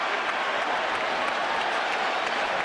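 A boxing arena crowd at the Miguel Cotto vs Manny Pacquiao fight roars with dense cheering and applause, loud and continuous throughout with no pauses.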